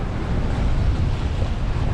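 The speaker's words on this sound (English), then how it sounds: "it's very exciting going in and out of those quite sizable waves" Sizable waves and strong wind while sailing a 20-foot Norfolk Gypsy small boat, a continuous loud roar of wind buffeting and water rushing against the hull, close and steady with no talk.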